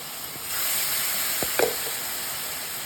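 About two tablespoons of garlic saute in a pan, a soft steady hiss that starts after half a second, with a couple of quiet knocks and a utensil tap.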